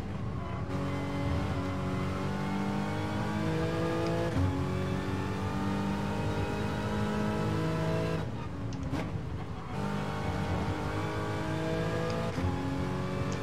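Race cars in Gran Turismo lap Silverstone International, their engines holding a loud, steady tone that rises through the gears, drops sharply at each shift and then climbs again, with no talking.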